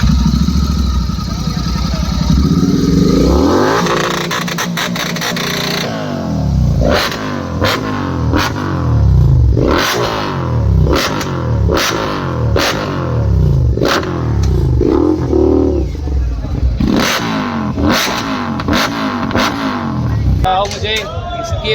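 A Royal Enfield Bullet motorcycle engine thumps and revs repeatedly, loud and near, with rhythmic throttle blips at a moto fest in Jharkhand; a voice talks over it at times.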